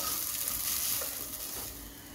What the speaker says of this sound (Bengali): তো এই জন্য চাল আর ডালটা একটু ভালো করেই ভাজতে হবে।